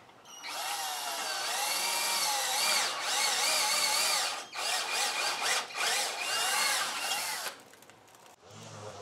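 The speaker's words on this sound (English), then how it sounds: "Now I'm just screwing down the studs." A power drill drives screws down into wooden studs while building a lawnmower trailer: long, loud whining runs with rising and falling pitch as each screw sinks, broken by short pauses between screws.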